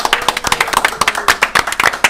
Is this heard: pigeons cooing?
no